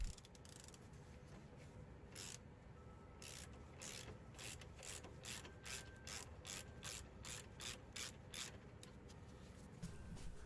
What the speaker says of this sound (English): we'll now need a 17mm short socket or a wrench to remove the 2 caliper bolts